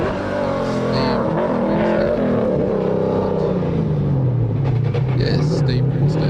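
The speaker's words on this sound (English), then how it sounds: "Steve Grinstead taking his VL to the top of the mountain" Holden VL Commodore racing up a mountain hillclimb, its engine holding a loud, steady roar with rising and falling pitch throughout, a commentator talking over it.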